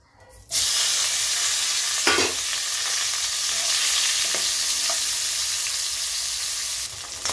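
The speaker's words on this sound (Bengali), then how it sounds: "এবারে মাছটাকে আমি প্রথমে ভেজে নিচ্ছি" Steady, loud sizzling of catfish frying in hot oil, a continuous crackling hiss with a few brief clinks, no voices.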